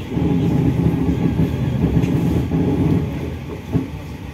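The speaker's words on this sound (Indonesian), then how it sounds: "Kereta api tambahan Pasar Senen Solo tiba di stasiun Yogyakarta pukul" An extra Pasar Senen–Solo passenger train arriving at Yogyakarta station at night, a close heavy rumble of rolling coaches with low clatter and rattles running throughout.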